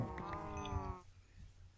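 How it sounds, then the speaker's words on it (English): A Minecraft cow lets out a single loud, drawn-out moo that lasts about a second, followed by quiet game ambience. "Dead cow."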